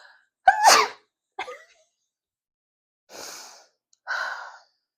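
One loud, close sneeze bursts out sharply near the start, followed by a few quieter sniffs and breathy exhalations with silence between them.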